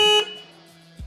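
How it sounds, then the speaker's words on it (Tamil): A single horn of a Raptee T30 electric motorcycle sounds a short, loud electronic tone followed by a fainter fading ring, alone with no talk. "ஒரு சிங்கிள் ஹார்ன் தான் வந்து கொடுத்துருக்காங்க."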